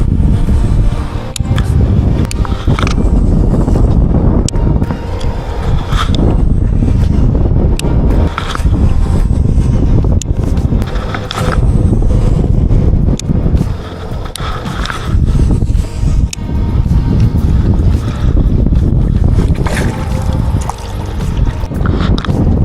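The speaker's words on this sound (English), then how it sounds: "There's a lot of wind out here, guys." Strong wind roars steadily over a river during bass fishing, a loud, continuous buffeting rush across the whole stretch with slight surges and no speech.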